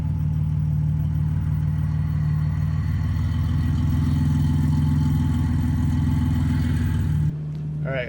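A BMW E46 fitted with a swapped GM automatic gearbox idles with its engine humming steadily up close, shifting into reverse and then dropping in level near the end.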